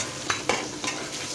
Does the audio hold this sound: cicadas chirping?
no